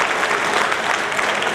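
Sustained applause from the audience at the Lions Club of Nizamabad 62nd anniversary celebration, a dense, steady wash of many hands clapping at an even loudness throughout, with no voices over it.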